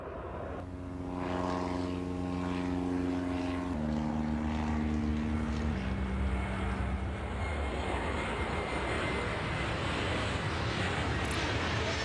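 A propeller airliner cleared for takeoff on runway 32 in the airport game Airport Madness, its engine drone swelling steadily and holding loud and continuous, with tones shifting partway through and no voices.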